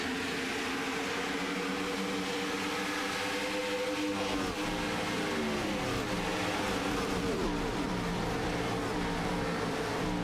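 NASCAR stock cars roar through turns 1 and 2 late in the 2005 USG Sheetrock 400, with a dense, continuous engine drone whose pitch sweeps as the pack passes, loud and steady throughout.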